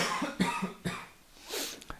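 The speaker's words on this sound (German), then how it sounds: "ich muss dann kurz husten" A man coughs several times in quick, sharp bursts close to the microphone, then gives a softer throat-clearing rasp.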